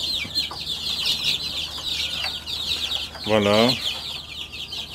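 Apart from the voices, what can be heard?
small hens clucking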